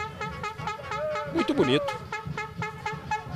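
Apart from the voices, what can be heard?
horn sounding in a football stadium crowd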